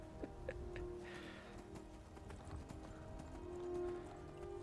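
Horse hooves clip-clop in the Skyrim video game, a quiet, steady trotting rhythm of light hoof knocks over a faint ambient game background, with no talking.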